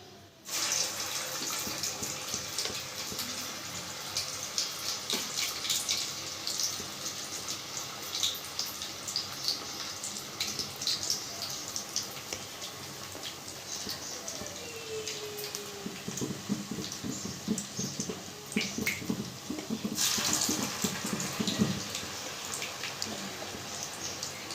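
Vada frying in hot coconut oil, the oil bubbling up: a steady, dense crackling sizzle with fine popping, close and even throughout, with a few brief clinks.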